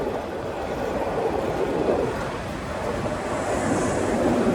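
The Agnibina Express from Dhaka to Jamalpur runs through Tongi station without stopping, a continuous, even rumble and rushing roar close by with no clear breaks.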